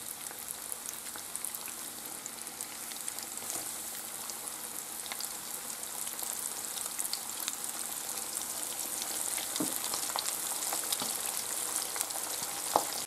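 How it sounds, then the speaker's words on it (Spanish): Flour-coated Russian-style meat fillets fry in very hot oil, a dense, even bubbling sizzle with fine crackles and occasional sharper pops, steady and moderately close. "Ya lo hemos rebozado con la harina y ahora a freír."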